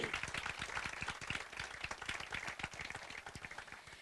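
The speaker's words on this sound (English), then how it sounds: "Let's give them all a round of applause." An audience applauds at an outdoor groundbreaking ceremony, its dense, steady clapping filling the whole stretch at an even level without a break.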